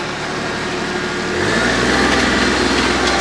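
Compact tractor engine idling, then revving up at about the one-and-a-half second mark to a steady, louder high drone for running the PTO at 540 RPM, near and continuous with no talk.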